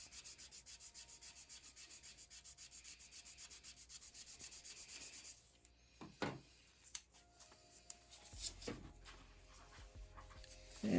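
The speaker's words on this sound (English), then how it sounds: "sands pretty easily too" Sanding of a plastic part for a 1/25 scale Robocop 6000 SUX model car: rhythmic rubbing strokes for about five seconds, then quieter scattered scrapes and handling noises.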